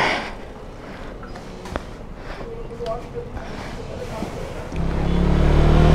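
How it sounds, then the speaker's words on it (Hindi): An Apollo Alpha H1 motorcycle engine starts after a stretch of quiet outdoor noise, then a deep, steady rumble settles into a close, loud idle. "बाइक भी स्टार्ट कर लेते हैं।"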